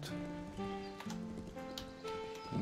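Horse hooves clip-clop in the video game Legends of Aria, a brief run of soft beats under looping game music with sustained tones, with no talking.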